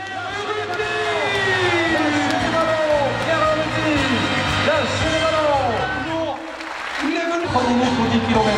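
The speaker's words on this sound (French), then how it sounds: "Ah oui, les applaudissements" A crowd applauds steadily as runners arrive in the arena at the finish of a race in Soustons, a continuous wash of clapping at a moderate distance, with a commentator's voice and whistling tones over it.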